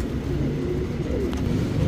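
A male pigeon offered for sale coos softly in low, throaty murmurs, partly buried under steady background noise.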